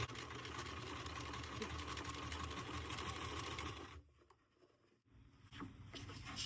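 Sewing machine stitching fabric strips and selvedges, a close, steady whirring hum for about four seconds that stops abruptly, followed by quiet handling noises and faint rustling.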